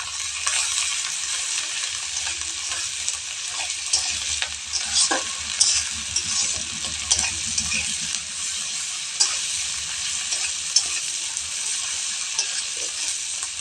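Mustard paste stirred and frying in a pan for Bengali prawn malaikari, a steady bright sizzle with scraping stirs and occasional clinks running throughout, close and continuous with no talk.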